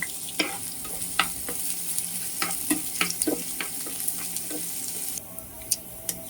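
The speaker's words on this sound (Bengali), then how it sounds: "তেলটা গরম হচ্ছে, এখন পেঁয়াজ ছেড়ে ভাজবো" Onions hit hot oil and sizzle steadily, with repeated scraping stirs and sharp spatters cutting through the frying hiss, close and fairly loud.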